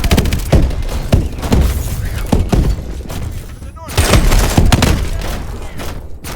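Volley of swarm missiles launching in Call of Duty: Advanced Warfare, a dense run of thumping blasts and booms in battle noise, with a radio voice talking over it.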